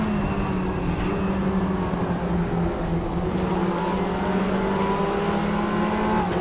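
An Audi race car in the RaceRoom Racing video game, its engine droning steadily and climbing gradually in pitch under throttle, loud and close throughout with no talk.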